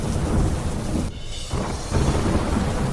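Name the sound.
heavy rain with thunder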